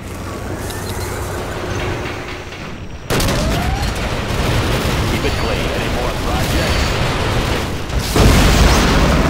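A battleship's main guns in Command & Conquer Generals Zero Hour fire with heavy booming blasts, a sudden loud onset followed by a sustained rumbling barrage and a second louder surge near the end, with voices speaking in between.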